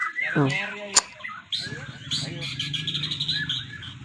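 A white-rumped shama, the murai batu songbird, kept indoors, sings a run of clear whistles and quick chirps close by, a sharp note cutting in before a rapid, varied trill, with a voice talking underneath.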